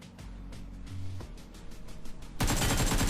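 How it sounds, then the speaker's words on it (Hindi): Gunfire from a Mini rifle in the PUBG Mobile video game, a few thudding shots and rattling bursts in the game mix, ending in a sudden loud blast of noise. "अब भले मैंने 2 ही गोलियां मारी थी, बट मिनी की मारी थी"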